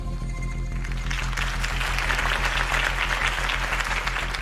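A crowd applauds after Harvey Dent's campaign speech in a Batman video game, the clapping swelling from a thin start into a dense, sustained ovation over a steady low background hum.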